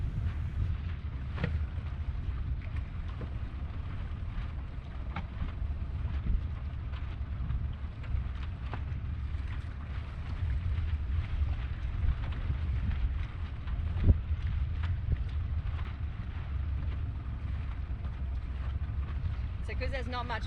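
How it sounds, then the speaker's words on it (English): Sailboat moving through calm water in light wind, a steady low rushing and wind wash with faint creaks and splashes, continuous and fairly close. "You are steering a sailboat"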